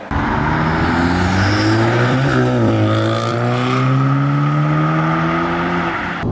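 A tuned 414 bhp MK7.5 Volkswagen Golf R accelerates hard, its engine note rising through the revs, dipping briefly at a gear change, then climbing again, loud and close from inside the car.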